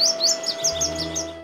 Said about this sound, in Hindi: इस अहाते में अब सिर्फ परिंदे चहचहाते हैं